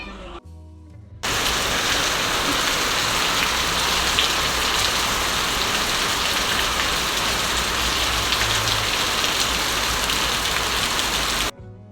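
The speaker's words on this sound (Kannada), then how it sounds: "ಇವತ್ತು ಜೋರು ಮಳೆ ಬರ್ತಾ ಉಂಟು ನೋಡಿ" Heavy rain pours down steadily, a dense, loud, continuous hiss and patter that starts abruptly and holds evenly for about ten seconds before cutting off.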